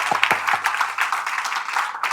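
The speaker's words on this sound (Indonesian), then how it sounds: "Wah, beri tepuk tangan." Scattered clapping from a small church gathering, fairly faint and uneven, with a few sharper claps near the start before settling into light, continuous applause.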